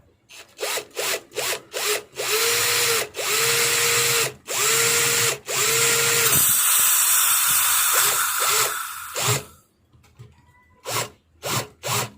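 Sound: power drill drilling a hole

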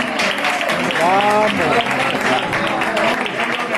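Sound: audience applause at flamenco peña

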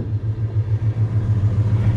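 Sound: 1978 Chevrolet El Camino engine running

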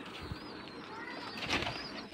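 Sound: pigeons at a pigeon farm, flapping wings

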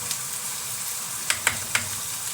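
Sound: pepper paste sizzling in butter in a pan

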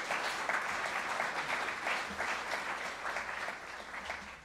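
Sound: audience applause for panel guests

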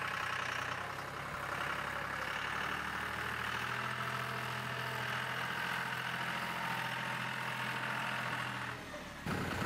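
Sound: John Deere 5055e tractor engine running

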